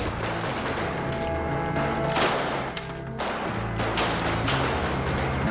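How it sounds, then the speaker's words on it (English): Heavy gunfire in a Doctor Who scene aimed at a robot, a dense continuous barrage of booming shots and crashes with sharp louder bursts, loud and with no speech. "they've been fucking shooting at this robot for fucking 3 episodes now"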